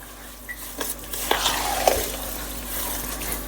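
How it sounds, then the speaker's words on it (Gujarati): Salt being stirred into a Gujarati sour pickle (khatu athanu) in a bowl, soft scraping and mixing sounds with a few light clinks, close and quiet. "મીઠું નાખીને હમણાં હવે ભેળવી નાખું."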